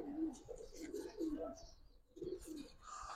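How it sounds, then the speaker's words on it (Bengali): Military-breed pigeons at a pigeon farm give repeated low, rolling coos at moderate distance, mixed with people talking nearby. "এই দামে এত সুন্দর কবুতর দেখেন"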